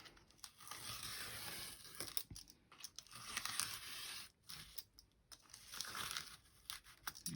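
Paper pages for a handmade ring-bound journal being cut along a folded groove, giving a steady close papery slicing and tearing rustle with brief pauses, no talking.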